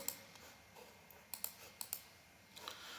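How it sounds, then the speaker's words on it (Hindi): A computer mouse clicks a continue button, several sharp, faint clicks spaced irregularly in a quiet room with light background hiss. "कंटिन्यू पे क्लिक करूँगा"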